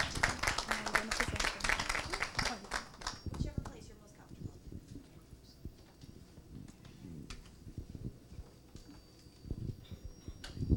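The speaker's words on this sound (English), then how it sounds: "So let us welcome Ms. Jacobs with a resounding round of applause." Audience applause welcoming a speaker at a parliamentary gathering, a short burst of clapping at the start that quickly dies away into quieter room noise with scattered taps and rustling.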